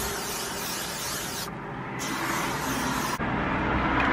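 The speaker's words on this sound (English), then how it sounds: "Now to just spray the ever-living heck out of them." A long continuous hiss from a spray can, briefly pausing, then spraying again until the end.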